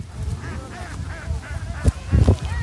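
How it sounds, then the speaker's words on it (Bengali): Ducks quack and honk repeatedly beside a windy village river during traditional fishing, with several louder, closer calls near the end. "হাঁস"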